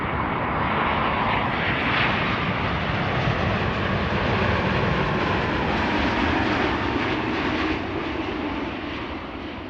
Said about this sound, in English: KLM flight 644, arriving from New York, 787-10, 6 hours and 36 minutes the flight time.